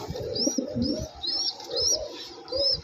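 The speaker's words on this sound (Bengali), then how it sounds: "এখানে আরও এক জোড়া কবুতর আছে" Pigeons in a bird seller's collection cooing close by, several soft throaty coos repeating in short rhythmic phrases over about three seconds.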